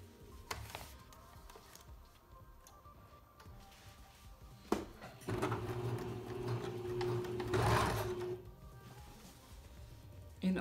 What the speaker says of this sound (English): we're going to stitch as close to that fold, as close to that fold as we can